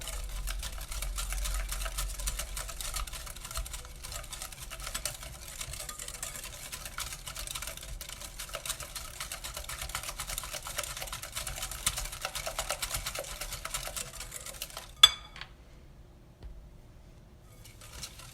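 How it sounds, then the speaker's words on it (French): Sugar and eggs are mixed for an apple almond cake with a steady, rapid mechanical whir, like an electric whisk, running for a long stretch before cutting off into near silence. "je vais mélanger le sucre et les œufs"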